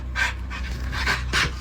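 A dog pants in quick, loud bursts close by, several breathy huffs in a row with short gaps between them.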